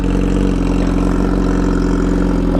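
An MV Agusta Brutale 1000 RR motorcycle engine runs steadily, loud and close, with a constant low throbbing drone and no talk.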